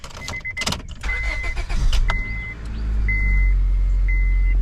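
A 2003 Honda Civic LX cranks and starts, then settles into a steady low idle close by, with a few short electronic chimes beeping over the engine.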